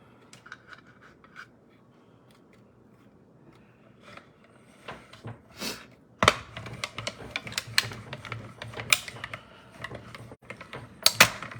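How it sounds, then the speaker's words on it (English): A die-cutting machine working on paper pieces for a card kit, starting quietly, then producing a run of loud cranking clicks and rattling mechanical bursts in an uneven rhythm, close by. "I'm going to die cut both of those"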